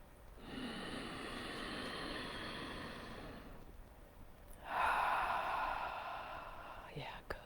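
One deep, easy breath during guided meditation: a long, airy inhale, a brief pause, then a slower, fuller exhale, close and soft.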